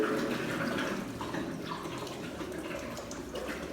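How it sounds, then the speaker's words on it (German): A toilet cistern flushes, water rushing and gurgling down in a steady, fairly close wash of sound that slowly eases off. "Super modern, einfach unser Spülkasten geht und da macht unten das Wasser durch."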